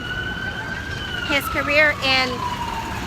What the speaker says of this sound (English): I'm gonna wait for the ambulance to pass.